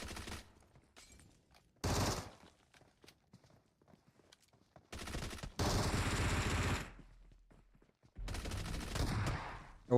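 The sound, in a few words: gunfire and shotgun in a battle royale video game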